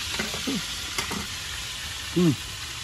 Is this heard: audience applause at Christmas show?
no